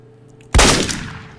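A single sharp gunshot from a video game's firearm goes off abruptly after a quiet moment, then trails away in a fading echo.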